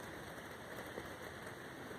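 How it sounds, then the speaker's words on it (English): Rain falls steadily through the leaves of huge trees on a walk, a soft continuous hiss and patter of drops with no voices, even and fairly quiet throughout. "the rain is coming down."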